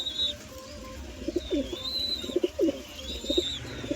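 Pigeons coo nearby in soft, repeated throaty phrases, several calls overlapping, with a faint higher chirp now and then in the background.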